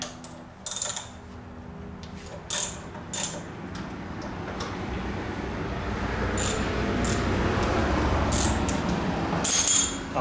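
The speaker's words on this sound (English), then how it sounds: "So I will get out the Allen wrench again and loosen up the pinch bolts." An Allen wrench loosens pinch bolts on the forks of a Honda VTX 1300R motorcycle, giving a few sharp metallic clicks and ratcheting taps scattered over a rising background hiss, close and fairly quiet, with no talking.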